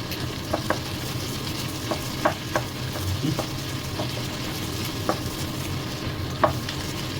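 Pig mask meat fries in a pan with seasonings, a constant low sizzle broken by sharp, scattered pops and spatters every second or so, close and clear with no talking.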